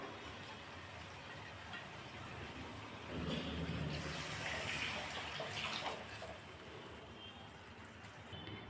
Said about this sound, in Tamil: இப்போ நம்ம புளிக்கரைச்சல் சேர்த்துடலாம்